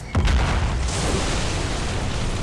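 A spell explosion in the fantasy video game Fictorum: one sudden, loud booming blast near the start, followed by a long, rumbling roar of debris that stays strong to the end.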